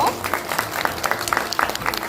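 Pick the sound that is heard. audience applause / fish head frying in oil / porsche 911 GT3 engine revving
audience applause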